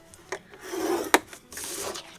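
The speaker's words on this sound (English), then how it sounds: "Okay, so I'm just gonna score here." Paper being scored along a fold line for a handmade blank folio base, a dry rubbing scrape with one sharp pressed stroke midway, close and fairly quiet with no talking.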